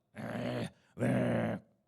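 A dog gives two loud, growling barks in quick succession, each lasting about half a second, close by with no other sound.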